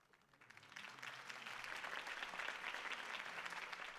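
Crowd applause swells after a political campaign speech by Harvey Dent in a Batman video game, rising quickly from quiet into steady, dense clapping that holds loud and even throughout.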